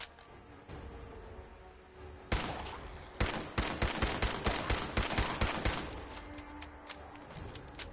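Sniper rifle gunfire in Fallout 4: loud, sharp shots in a rapid, uneven burst, several in quick succession with some echo between them.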